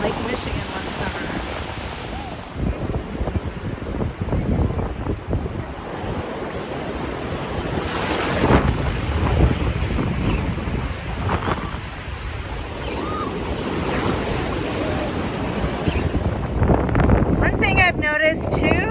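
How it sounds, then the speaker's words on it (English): Big Gulf of Mexico surf breaking at Pensacola ahead of a hurricane, a steady loud roar of crashing waves with wind buffeting the microphone throughout. "is big waves for the Gulf, so it's like beware, danger."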